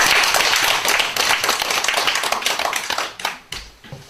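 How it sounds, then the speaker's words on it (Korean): An audience at a Buddhist college gathering gives applause. The claps are crisp and close, thick at first and then thinning into scattered taps before they stop. "큰 박수 좀 부탁드리겠습니다"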